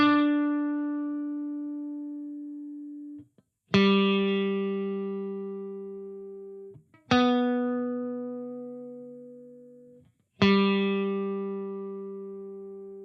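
A guitar part played dry with no effects: four long, ringing notes or chords, each plucked cleanly and left to decay for about three seconds before the next, close and alone with no voices.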